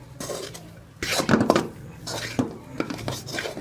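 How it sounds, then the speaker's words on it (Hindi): Bread and milk powder mixed in a bowl for bread rasmalai, a spoon scraping and clinking against the dish in uneven bursts, close by, with a voice speaking in the background. "मिल्क पाउडर को ब्रेड के साथ मिल्क पाउडर को अच्छी तरह से मिक्स कर लेंगे।"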